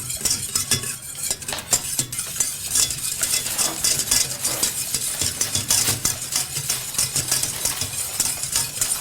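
Stirring a mixture in a pan while cooking, with a utensil scraping and clinking against the cookware in a busy, steady rhythm, close and continuous, over faint sizzling and a low background hum.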